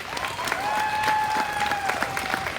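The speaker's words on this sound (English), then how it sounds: "Let's give him a round of applause." Crowd applause at a youth swine showmanship event in an arena, steady clapping at moderate volume with a faint cheer or whistle-like tone drifting over it.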